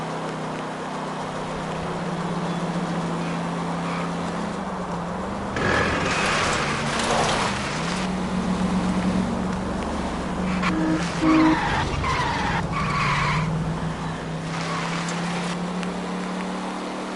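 A car in L.A. Noire drives with a steady engine hum, then its tires skid and squeal several times midway before it settles back into cruising.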